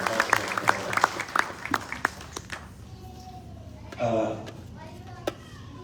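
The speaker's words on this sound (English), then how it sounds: "I think she deserves a bigger round of applause." Audience applause at a Hindu religious gathering for a Bhagwat Mahapuran yagna, a few seconds of scattered hand clapping that dies away, followed by voices talking in the room.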